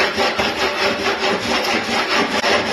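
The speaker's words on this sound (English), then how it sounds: "This is when you have to smooth an edge and you don't have sandpaper or anything like that." Plywood edge being smoothed by hand-rubbing without sandpaper, a loud, close, continuous rasping scrape in steady back-and-forth strokes.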